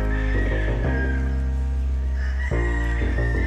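Gamefowl roosters on a farm in Bago City crow loudly and close by in a long sustained call, with a second crow starting near the end and some clucking, nothing else heard.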